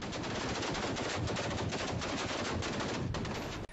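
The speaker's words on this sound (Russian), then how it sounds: "Ellos dan bienvenida con disparos en la plaza central de Donetsk." Celebratory gunfire in the central square of Donetsk, a dense, continuous roar of rapid automatic shots, loud and sustained throughout with no talking.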